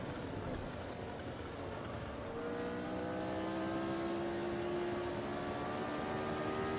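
A 1975 Formula Retro race car at the Österreichring in Automobilista sim racing. The engine drone holds steady and rises in pitch as it accelerates under full throttle, fairly quiet and continuous, with no talk.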